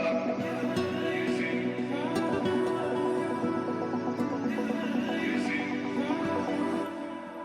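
A melodic Afro House sample built from the Arcade plugin's distant-voices, dark-toned preset, with layered sustained tones and shimmering upper textures playing steadily and loudly for several seconds before easing slightly at the end.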